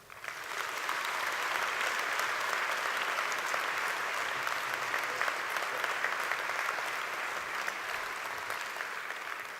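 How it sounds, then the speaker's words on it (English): An audience at a City of Glasgow College graduation ceremony applauds for a guest of honour, a loud, dense, sustained clapping that swells quickly and holds steady for several seconds. "would you help me give a huge round of applause to our guest of honour, Mr. Jim McCall."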